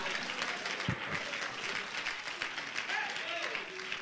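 A church congregation clapping and cheering during a sermon, a dense steady wash of applause and shouts with a voice rising over the crowd.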